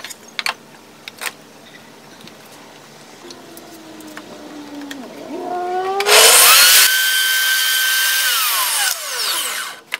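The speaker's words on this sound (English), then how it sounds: "Using a piece of scrap to cut my floating tenons." A power saw in a jig cuts floating tenons from a piece of scrap wood, first quiet clicks and handling, then a loud whining burst as the blade runs up, bites into the wood, and spins down.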